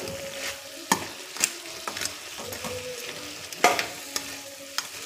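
Chicken fries in a pan as it is stirred, with a soft continuous sizzle broken by a series of sharp scraping clicks from the spoon at irregular intervals.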